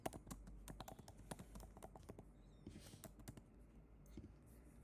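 Keys clatter on a computer keyboard as a template name is typed, a quick run of close, crisp clicks in an uneven rhythm, faint overall with no talking.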